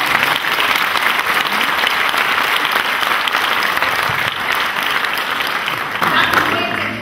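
Audience applauding at a county council president's investiture ceremony in Bacău, dense sustained clapping filling the hall from start to finish, loud and continuous with a slight swell near the end.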